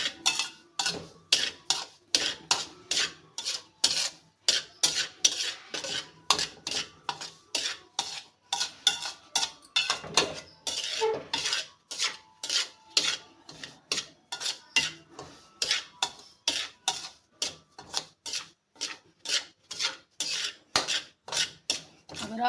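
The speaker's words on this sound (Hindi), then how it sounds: "चम्मच हमने लगातार हिलाना है ताकि हमारी सूजी नीचे से जले नहीं।" A spoon scrapes steadily through semolina roasting in a pan for Punjabi panjiri, with rapid rhythmic scraping strokes that continue close and loud without pause.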